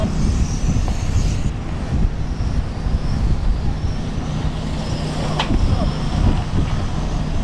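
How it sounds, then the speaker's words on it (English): GT12 RC touring cars launch off the grid at a race, their whining electric motors buzzing steadily with wind rumble and crowd-level background noise, plus a few sharp transients as the pack gets underway. "The next sound you hear will be the start of your GT12."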